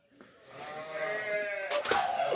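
Healthy sheep in a pen give a close, drawn-out bleat that wavers for over a second, followed by a couple of shorter bleats from the flock, with no talking.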